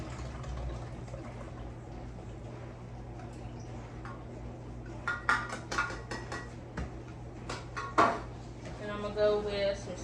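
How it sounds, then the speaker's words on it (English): Evaporated milk, two cans' worth, pours into a bowl of hot noodles with melting butter and cheese for baked mac and cheese, giving soft splashy liquid sounds with a few clinks of dishware near the end amid a low kitchen hum. "I'm gonna pour my evaporated milk,"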